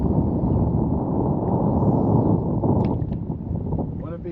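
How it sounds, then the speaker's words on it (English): Strong wind buffets the microphone on a fishing boat on the Black River, a continuous low roaring rumble that fills the whole clip with no break. "Wind is brutal."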